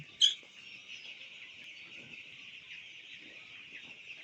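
Sixteen-day-old broiler chickens in a poultry farm keep up a soft, continuous high chorus of calls in rainy weather, with one sharper call near the start and no talk.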